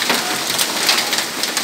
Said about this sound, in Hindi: ये देखिए फ्रेंड्स, ये देखिए, ये दिल्ली में बारिश हो रही है।